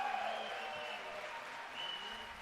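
At the 2018 US Open racquetball singles semifinal, the crowd keeps up applause and cheering after a rally, a quiet, distant wash of clapping and voices with no clear peaks.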